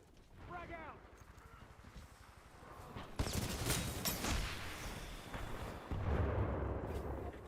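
A frag grenade explodes in the Titanfall video game amid a firefight, a heavy blast followed by rumbling gunfire and battle noise, with voices talking during the action.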